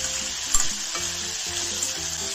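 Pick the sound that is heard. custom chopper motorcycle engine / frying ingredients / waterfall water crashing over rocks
frying ingredients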